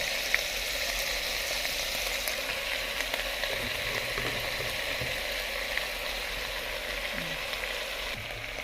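Pechay stems and leaves sautéing in a hot pan with black pepper, giving a steady, even sizzle and frying hiss that continues without a break at close range.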